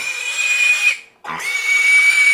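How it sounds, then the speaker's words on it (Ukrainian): A 26-day-old piglet squeals loudly and close by, a shrill, sustained cry that breaks off for a moment in the middle and then resumes. "Дивіться, 26 днів поросяті."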